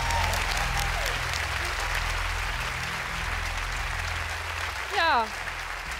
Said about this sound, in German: Einen großen Applaus für die Mitarbeitenden hier!